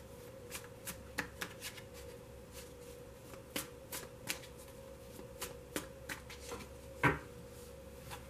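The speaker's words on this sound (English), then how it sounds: "so I'm only going to shuffle it for a moment." A tarot card deck is shuffled briefly, giving a run of crisp, irregular riffling snaps and card flicks close by, with one louder burst near the end and no talk.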